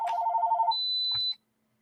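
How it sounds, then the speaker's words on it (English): A telephone rings with a warbling electronic trill, one burst followed by a thin high beep before it cuts off abruptly, close and fairly clear against a quiet background. "them telemarketers keep blowing up that phone"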